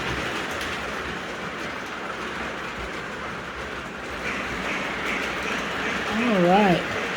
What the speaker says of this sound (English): And the trains are rolling again.